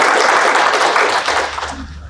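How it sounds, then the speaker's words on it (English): A conference audience at PyCon applauds a speaker's introduction with a brief burst of dense, fairly loud clapping. It tapers off over about two seconds. "Can we have applause for Daniel?"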